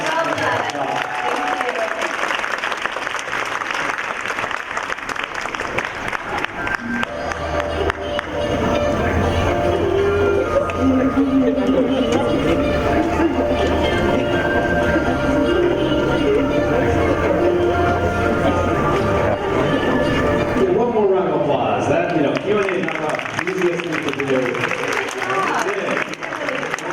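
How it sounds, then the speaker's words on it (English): A large audience applauds a Cherry Blossom Queen pageant candidate in Northern California, a dense, steady wash of clapping that swells midway and runs the full length, with voices and crowd murmur mixed in. "Ladies and gentlemen, a big round of applause for our candidate."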